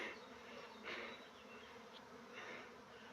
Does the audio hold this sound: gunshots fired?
no